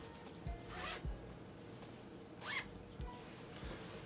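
A zipper on a small pajama pocket being run open and closed several times, close and quiet, with short scratchy pulls and soft handling taps between them.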